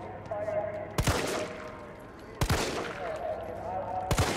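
Three loud gunshots in the Resident Evil 3 Remake demo, evenly spaced about a second and a half apart, each a sharp crack with a short tail over game ambience.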